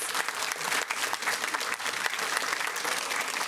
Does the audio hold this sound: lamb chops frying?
no